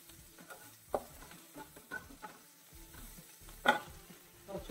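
Egg bhurji seasoned with cumin powder is stirred and scraped around a frying pan, giving soft, irregular scrapes and clinks over a faint, steady sizzle, with no talking.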